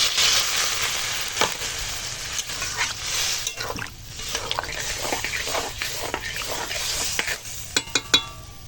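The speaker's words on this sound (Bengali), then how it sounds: "এখন কষানো হয়ে গেছে দিয়ে দেবো জল" Sautéed masala sizzles in a pan and water is poured in, turning the frying into a loud, bubbling hiss, with utensil knocks and stirring scrapes close by.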